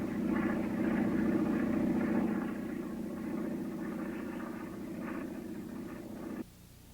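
A Sorceress racing biplane with a 125 hp Lycoming engine flies past at an air show, its droning propeller engine held steady for several seconds before cutting off abruptly, moderately loud and somewhat distant.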